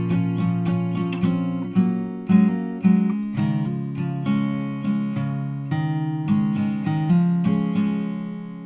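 Plucked acoustic guitar notes ring out in a steady pattern, with occasional fuller strums, played alone and clearly; the opening line of a song.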